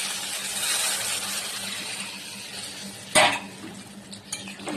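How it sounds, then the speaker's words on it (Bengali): Curry with soybeans and eggs is stirred in a pot after water goes in: a steady bubbling hiss sits under the scene, broken by a sharp metal spoon scrape against the pot and a few softer knocks, with no voices. "এবার একটু নাড়িয়ে দিচ্ছি, এবার ফুটুক"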